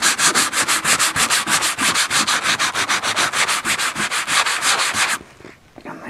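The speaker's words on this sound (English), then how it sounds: "just rub it off with a bit of kitchen towel" Kitchen towel is rubbed briskly back and forth to wipe paint off a surface, a fast, loud, even run of scrubbing strokes that stops abruptly after about five seconds, leaving quiet handling.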